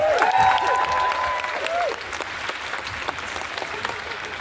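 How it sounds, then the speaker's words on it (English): Audience applause at an Arbonne training event, steady dense clapping from a large crowd that fades slightly after a couple of seconds, with a brief cheer near the start. "so let's give them a round of applause"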